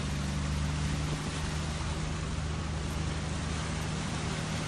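A tractor ploughs through deep flood water, a steady low engine drone under a constant wash of rushing, churning water, heard close and unbroken throughout.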